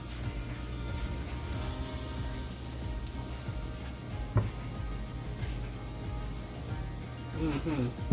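Southern hoe cakes frying in hot oil, a soft steady sizzle with faint crackles and pops, continuing under quiet background noise.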